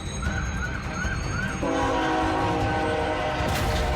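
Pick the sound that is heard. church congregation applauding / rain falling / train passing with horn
train passing with horn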